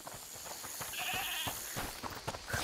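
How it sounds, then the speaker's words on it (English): A goat bleats in A Plague Tale: Requiem, with a few wavering calls heard at moderate distance over game ambience and scattered footsteps. "Is that the goat he talked about?"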